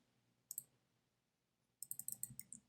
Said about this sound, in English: So I'm just going to click on each one and do this process